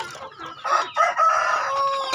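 Young roosters kept in a coop crow several times in a row in short, strained calls, close by and fairly clear, with some clucking between them.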